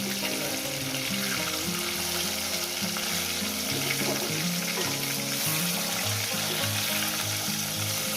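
Bhangon fish frying in hot oil in a pan, a steady dense sizzle throughout with soft scraping and stirring as the fish is turned.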